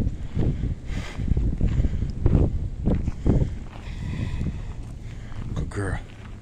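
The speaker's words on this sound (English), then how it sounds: "Sorry about the wind." Gusty wind buffets the microphone outdoors in desert terrain, a constant low rumble and roar with someone speaking over it throughout.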